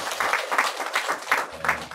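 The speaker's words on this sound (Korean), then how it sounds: "하나님께 영광의 박수 올려드립니다." A church congregation claps in praise to God, a burst of broadband applause filling the room at moderate volume for about two seconds, with no talk over it.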